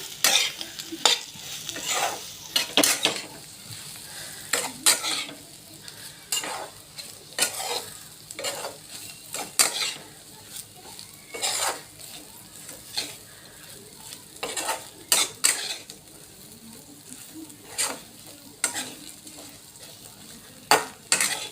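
Stuffed okra (bharli bhendi) sautés in a pan: repeated spatula scrapes and clinks come in a loose rhythm over a continuous gentle sizzle, close and fairly quiet, with no voices.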